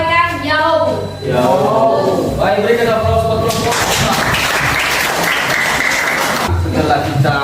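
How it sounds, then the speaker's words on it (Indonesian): Applause for a presenting discussion group in a teacher-training class: loud, dense clapping swells after a few seconds and holds steady, with voices speaking over the start. "berikan aplaus buat kelompok"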